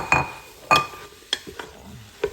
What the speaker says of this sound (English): Give that a sear.